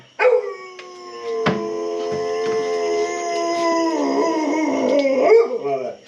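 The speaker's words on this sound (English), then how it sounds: "Neighbor dog!" A dog howls in a long, sustained wail that wavers and rises, loud and close, with a sharp yip near the start and no talking.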